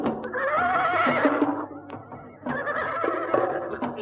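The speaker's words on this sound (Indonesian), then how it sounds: "Itu kuda-kuda mereka." Horses neigh loudly and close by, two long shrill whinnies one after the other, with faint hoof clatter beneath.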